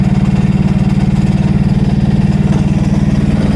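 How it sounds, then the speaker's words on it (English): A golf cart's small engine runs steadily nearby, a loud, even low chugging hum that never changes pace. "We are on a golf cart."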